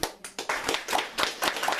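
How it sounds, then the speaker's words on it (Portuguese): Audience clapping during a spiritual lecture, a sparse, uneven round of individual hand claps in quick succession, fairly close and moderately loud, with no talk over it. "Palmas para Kardec."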